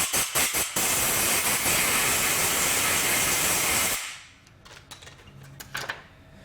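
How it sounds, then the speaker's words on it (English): Compressed air blasts out the engine cases of a vintage Triumph motorcycle: a few short puffs, then a loud, steady hiss lasting about three seconds that cuts off abruptly, leaving faint clicks and handling noises. "Maybe even give it a little compressed air."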